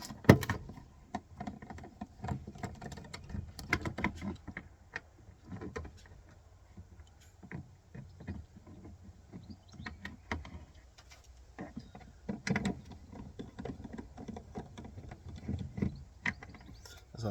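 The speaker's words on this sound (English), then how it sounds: "taking out these 3 bolts. They're all T20s, so it should go in, crack them off" A Torx T20 driver undoes the bolts on a Renault Clio tail light cluster, producing close, irregular ratcheting clicks and mechanical rattles with bursts of handling noise and short quiet gaps.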